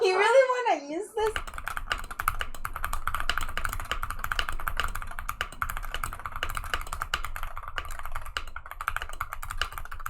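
Brief talk gives way to quick, continuous clicking keystrokes on a rapid-trigger computer keyboard being tested, presumably while playing osu!, the taps close and rhythmic for several seconds.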